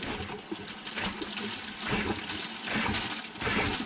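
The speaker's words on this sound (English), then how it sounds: "turn the water on, and then I'll give it some squirt of air, and we'll see what comes out" Water and bursts of compressed air are pushed through a car's cooling system, making a continuous loud gushing, spraying rush that swells and eases in waves.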